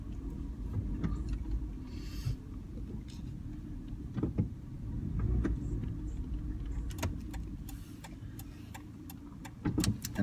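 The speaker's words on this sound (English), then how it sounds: "I drive a black 4Runner, 5th generation 4Runner" A black fifth-generation Toyota 4Runner driving, heard from inside as a steady low road rumble with occasional clicks and rattles from the cabin, no voices.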